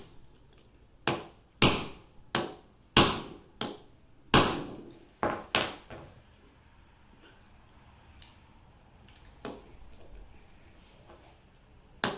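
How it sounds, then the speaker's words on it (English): Sharp metallic hammer strikes driving bearings in with sockets on a Husqvarna cut-off saw bottom end, about ten hard blows in uneven bursts, ringing briefly, then quieter taps after a pause. "I will be just hammering them in with the correct size sockets"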